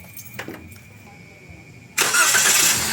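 A Toyota Avanza with an overheating engine turns over and catches abruptly after a quiet stretch of faint clicks, then settles into a loud, close, steady run; a voice is heard briefly before it starts.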